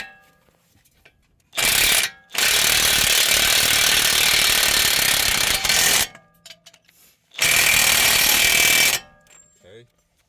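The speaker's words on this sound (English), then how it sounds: "So I have an impact wrench. Make my job easy and quick." An impact wrench hammers on a 32 mm axle nut of a Toyota in two loud, rattling bursts of about four and one and a half seconds, close by, with quieter clicks and handling noises between them.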